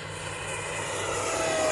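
A steady, loud whine of an E-Flite F-18 Hornet 80mm electric ducted fan RC jet at full throttle, droning continuously with a slight rise toward the end.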